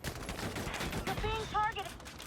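Rapid bursts of gunfire sound in Valkyria Chronicles 4 during a battle, fairly faint and dense, with voices speaking over the shooting.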